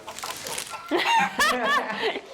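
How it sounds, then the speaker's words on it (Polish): A hen clucks nearby in a few short, throaty bursts, with a bit of background noise and no talking. "Ale naprawdę dostaliśmy kurę."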